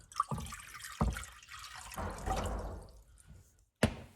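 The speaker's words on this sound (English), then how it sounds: "Water in a pot." Water poured into a cooking pot of green magenta-plant leaves for textile dye, a few sharp splashes and drips followed by a steady trickling pour, close and fairly quiet.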